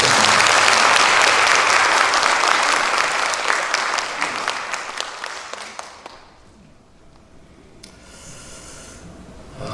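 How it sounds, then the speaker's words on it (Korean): A church congregation applauds the pastors' wives during a sermon, a loud, dense wash of clapping that fills the first six seconds and then fades to quiet room noise with a faint patter near the end. "우리 사모님께 다시 한번 우리 박수를"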